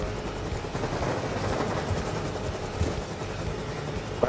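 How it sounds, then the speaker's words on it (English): Helicopter killstreak in a shooter video game, a steady, loud rotor chop and engine drone sustained across the whole stretch with a few small clicks and thumps, no talk over it. "Oh, tags, oh, tags, I'm calling my sub chopper."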